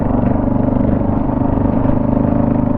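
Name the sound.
noisy MotoZ Tractionator adventure tires on motorcycle riding on road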